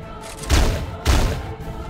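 Two heavy, booming shotgun blasts about half a second apart in the top-down shooter Teleglitch, each a loud low thump with a short decaying tail, over a steady game background.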